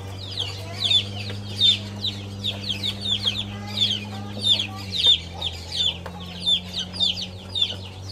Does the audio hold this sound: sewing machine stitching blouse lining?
no